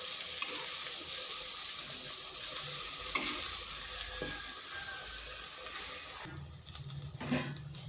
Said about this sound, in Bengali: বেগুনগুলোকে এইভাবে উল্টে পাল্টে দুই পাঁচটা ভেজে নিচ্ছি